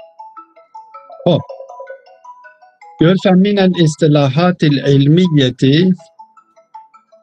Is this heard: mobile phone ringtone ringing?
yes